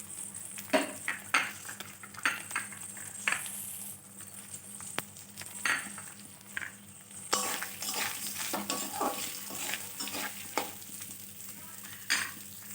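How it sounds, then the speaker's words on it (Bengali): Grated coconut and moong dal fry in a pan for bhuna khichuri, giving a soft, close sizzle under frequent clinks and scrapes of a spoon stirring against the metal. "নারকেলটা অল্প ভেজে দিয়ে দিচ্ছি"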